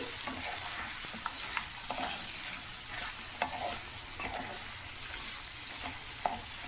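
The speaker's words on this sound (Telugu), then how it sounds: "ఇప్పుడు మనం స్టవ్ అయితే సిమ్లో పెట్టుకొని నిదానంగా మసాలా అంతా పచ్చివాసన పోయేదాకా వేయించుకోవాలండి" Mutton fry masala frying slowly in a pan over a low flame, a steady soft sizzle with occasional light stirring scrapes, close and even throughout with no talk.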